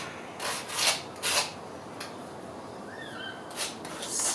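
Sanding a sliver off a broken ceramic dish, heard as a few short rasping strokes, close and separate, with quieter scraping between them.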